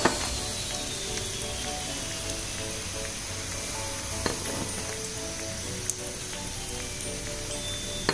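Brinjal pieces fry in hot oil with a constant close sizzle and hiss, dotted with a few sharp crackles and a clink or two, with no one speaking.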